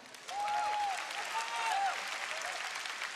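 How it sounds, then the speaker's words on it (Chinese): An audience at an awards show breaks into applause, a sustained wash of clapping lasting the whole moment, with cheering voices rising through it. "来点掌声好不好？"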